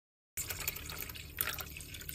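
Distilled vinegar poured from a jug for homemade pickles, a close, steady liquid gurgle and splash that starts abruptly after brief silence.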